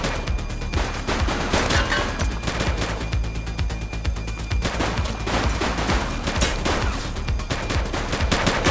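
Rapid bursts of automatic and single-shot gunfire from a police shootout in The Precinct video game, loud and nearly continuous throughout with dense overlapping reports and no talk.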